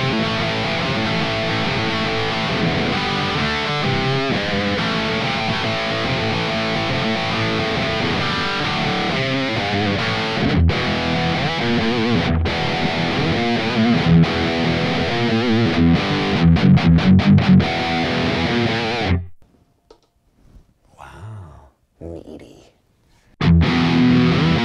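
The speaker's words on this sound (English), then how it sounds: "let's see if we can get some distortion going on this thing" Heavily distorted Epiphone Emily Wolfe Sheraton electric guitar with humbuckers, through a Van Halen 5150 channel 3 patch, plays chords and riffs for about twenty seconds, then cuts to near silence before crunching back in at the end.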